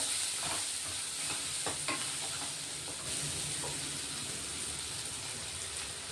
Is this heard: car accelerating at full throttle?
no